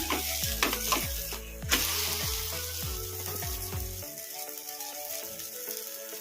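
Raw potato dosa frying and sizzling on a pan over a medium flame, a steady loud sizzle with repeated scraping strokes for about four seconds before the scraping stops and the sizzle carries on alone.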